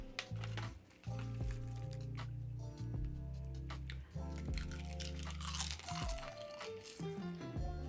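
Close crunching and chewing of a crisp seaweed snack, bites crackling repeatedly over steady background music.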